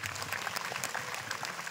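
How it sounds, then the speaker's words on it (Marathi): Audience members at a kirtan clap their hands together in a brisk, dense patter of many overlapping claps, close and lively, with no speech over it. "महिला मंडळ, टाळी वाजवा बरं"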